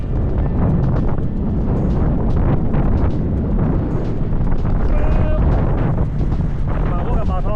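Strong wind sweeps across a rice field in Suphanburi, Thailand, roaring steadily and buffeting the microphone throughout.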